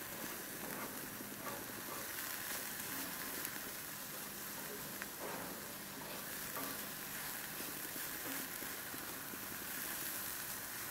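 Onions and peppers fry in a cast iron pan with a steady, close sizzle and occasional stirring scrapes, continuous throughout with no talking.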